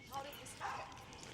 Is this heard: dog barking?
yes